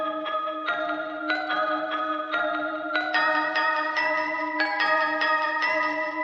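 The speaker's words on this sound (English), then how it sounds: "I just made this pattern using Analog Lab, the Extinction preset from 𝕊𝕆𝔹𝕆 by Prod HCE" A synth pattern from the Extinction preset in Analog Lab, played dry with no effects: sustained chords with a steady low tone beneath, changing every half second or so in a repeating rhythm, loud and alone.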